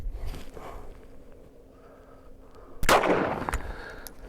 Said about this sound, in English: So we're gonna go 9mm next, 124 grain PPU, range ammo ball.